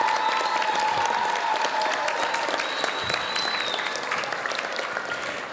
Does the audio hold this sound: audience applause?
yes